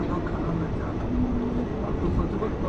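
A passenger train pulls in at Katni Junction with a continuous low rumble of wheels and carriages, steady and close throughout, with faint brief tonal squeals.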